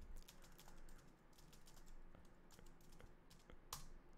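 Rapid, irregular clicking of a computer keyboard, close and quiet, with short bursts of keystrokes and a louder key press near the end, no voices.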